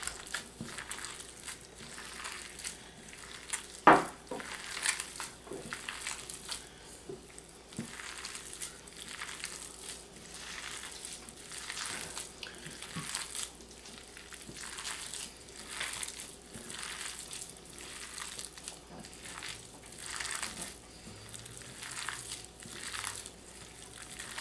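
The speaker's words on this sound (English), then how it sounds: "We're going to mash it up and make patties." Corned beef hash gets mashed and squeezed by a gloved hand into patties, giving soft, rhythmic squelching and crunching squishes that repeat steadily up close, with one sharper knock early on.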